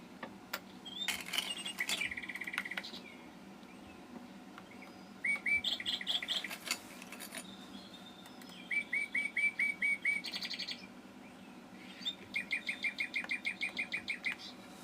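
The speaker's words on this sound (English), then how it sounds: "have you heard Chirpy Bird? He's got a chirpy chirp." Bright, high bird chirps in quick repeated bursts, with rapid trills of short tweets coming and going over a quiet background hum.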